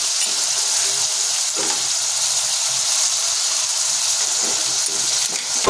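Tomato and ginger paste fries over a low flame in a pan, a steady close sizzle with a bright hiss running the whole time and soft scrapes from a spatula now and then.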